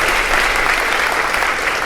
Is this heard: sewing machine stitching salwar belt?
no